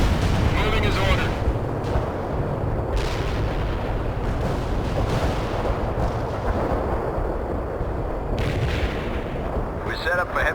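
Artillery barrages in the World in Conflict video game during a Soviet Assault mission, heavy booms and rumbling blasts rolling continuously and loudly, mixed with dense battlefield noise and radio-style voice chatter.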